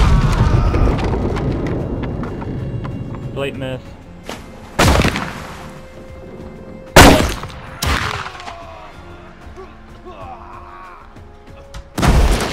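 Ship cannons firing in the pirate naval game Blackwake, a few loud separate booms spaced seconds apart, with a voice talking in between.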